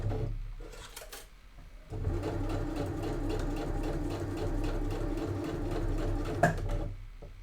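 A sewing machine stitches fabric for an A5 notebook pen holder, its steady mechanical whir running continuously up close with a brief lull near the start and a small knock toward the end.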